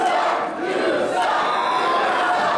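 Pro wrestling television show audience cheering and shouting for a championship match, a loud, dense roar of voices that swells and holds across the whole moment.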